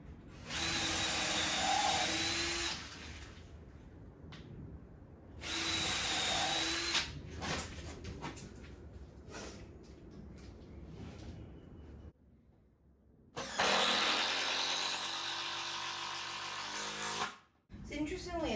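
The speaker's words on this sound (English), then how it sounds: "So I'm just going to use 100mm screws again." A power drill drives long 100mm screws into treated timber for a garden workbench in three loud whirring bursts separated by quieter handling sounds, with a voice speaking intermittently.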